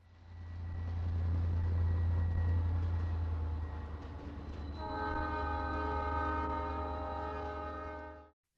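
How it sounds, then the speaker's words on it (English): A 1967 SDP-45 diesel locomotive hauls a short Southern Pacific Coast Daylight passenger train, its engine droning steadily with a low rumble, rolling wheels and a sustained tonal horn-like chord that builds midway before cutting off. "Next is a 1967 built SDP-45 that is pulling a very abbreviated Coast Daylight"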